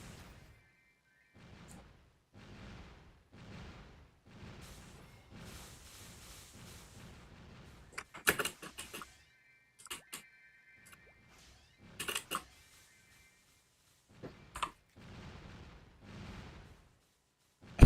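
Scattered gunshots during video game play, sharp isolated cracks and short bursts with long quiet gaps between them, a few louder clusters standing out over faint background game noise.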